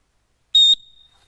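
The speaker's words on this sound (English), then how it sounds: "Let's not forget the 4-in-1 buckle, because it's a whistle as well." A 4-in-1 survival buckle whistle gives one short, loud, shrill blast of about a quarter second, then a faint lingering ring fades out in an otherwise quiet room.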